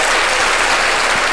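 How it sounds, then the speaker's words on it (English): Crowd cheering and applause play as a sound effect on a talk radio show, a dense, loud, steady burst of clapping that fills the moment without any talking. "Let's get a crowd in there."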